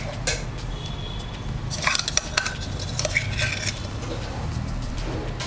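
A spoon works through a bowl of tomato and red chilli chutney mixed with ground garlic, giving repeated clinks and scrapes against the bowl with soft wet squishing, close and steady, with no talking.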